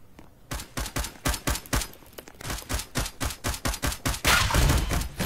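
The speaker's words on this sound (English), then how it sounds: "Why are you shooting?" Rapid video-game gunfire crackles in repeated bursts, loud and close, during play inside a nuke testing facility level, with brief gaps between volleys and a denser, harsher stretch near the end.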